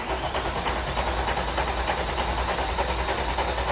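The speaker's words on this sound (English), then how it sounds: "We're just gonna give it a couple of cranks just to build up the oil pressure." A VR6 engine cranks over steadily on the starter to build oil pressure, giving a continuous loud, rapid rhythmic churning without catching.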